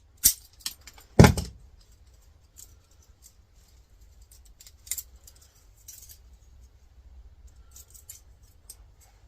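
Scissors or snips cut parts while an Apple iMac G3 is being scrapped, giving a few sharp metallic snaps and clinks, one loud close cut early and then sparse, quieter ticks and rattles with no talk.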